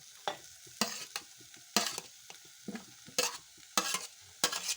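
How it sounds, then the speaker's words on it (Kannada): Boiled toor dal going into a pan for a dill (sabbasige) palya and being stirred: repeated close scraping strokes in an irregular rhythm over a soft sizzle, with no talking. "ಈಗ ತೊಗರಿಬೇಳೆ ಹಾಕ್ತೀನಿ ನೋಡ್ರಿ"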